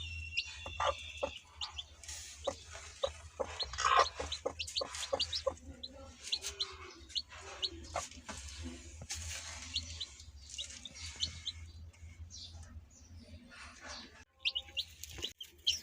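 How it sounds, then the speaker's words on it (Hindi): A hen with her newly hatched chicks clucks in short bursts while the chicks cheep and peep around her, close and moderately loud, among other birds in the background. "ये मुर्गी ने अंडों के बाद कैसे अपने बच्चे चूजे दिए हैं"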